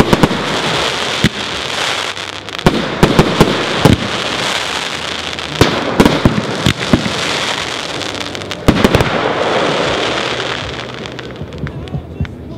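A 25-shot fan firework cake fires off in a dense barrage of pops and crackling bursts, heard from a short distance, with sharp reports punctuating a continuous roar of crackle until it thins out at the end.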